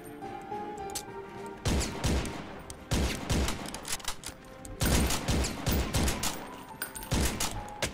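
Gunfire in a Korean shooter video game where each reload is controlled by hand, several loud, sharp shots spaced about a second apart with clattering mechanical sounds between them.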